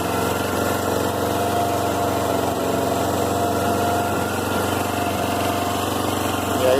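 A Suzuki GS 500 motorcycle engine idles alone with a noise, a steady close running drone with an even mechanical rumble that stays continuous and loud throughout.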